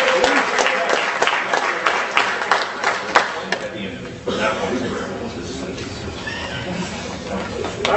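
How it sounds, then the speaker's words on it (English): Audience applause at a college debate final fills the room, a dense steady clapping from a crowd that continues for several seconds with a brief dip midway, murmuring voices underneath. "just clap once at the end"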